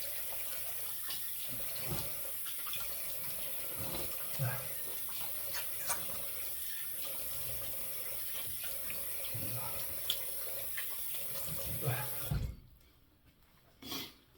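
Tap water runs steadily into a sink while a razor is rinsed after a head and face shave, a continuous close splashing flow that cuts off near the end.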